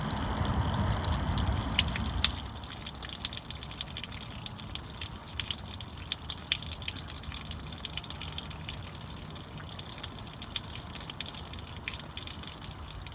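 Water draining from the radiator of a Ford Model T, a continuous soft gush and trickle with occasional drips, fairly close and steady for the whole stretch, no talking.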